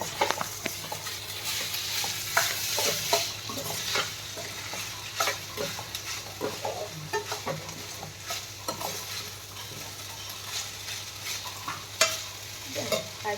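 Salted food stirred in a frying pan, a continuous sizzle running throughout with repeated close scraping and clinking of a spoon against the pan, steady and fairly loud with no talk.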